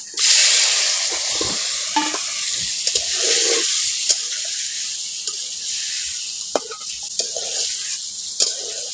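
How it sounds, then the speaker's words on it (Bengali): Eggs fry in hot oil in a pan, a strong hiss and crackle starting loud and continuing steadily, with occasional sharp clicks of a spoon against the pan. "এই তেলের মধ্যে আমি এখন ডিমগুলো দিয়ে দিচ্ছি"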